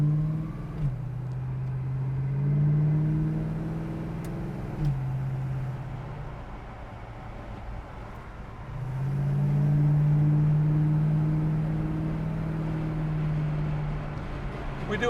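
A 1970 Mercury Cougar Eliminator with a deck-lid spoiler pulls hard through a couple of gears, its loud, steady engine drone rising in pitch, dropping briefly at each upshift, then climbing again, heard from inside the car.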